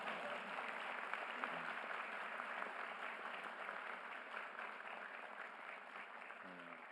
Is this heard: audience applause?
yes